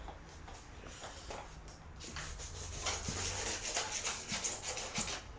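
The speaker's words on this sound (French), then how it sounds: "un petit coup de ponçage pour l'accroche" A surface is sanded by hand for adhesion, quiet rhythmic back-and-forth rubbing strokes up close that grow a bit louder and more continuous in the second half, with no voices.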